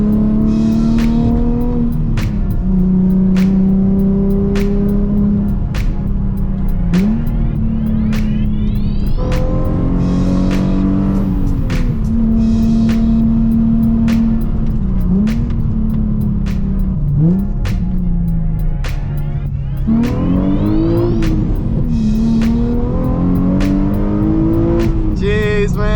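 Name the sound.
2007 Nissan 350z HR engine revving while driving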